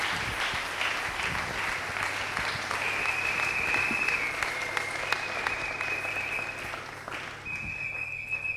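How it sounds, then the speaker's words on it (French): A church congregation applauds to welcome a female pastor to the pulpit. The clapping is dense, steady and sustained throughout, with thin whistle-like tones rising briefly above the crowd noise. "Aidez-moi à recevoir maman Blanchine sous vos acclamations"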